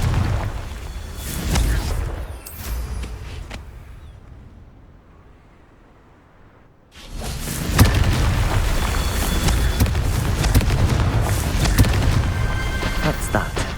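In the video game Hogwarts Legacy, the Confringo spell sets off loud, booming explosions. Rumbling bursts fade to a quiet lull, then a heavy blast breaks in and a sustained roar of crackling debris follows.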